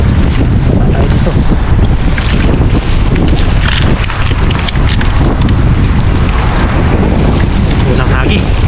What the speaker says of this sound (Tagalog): Malakas kasi hangin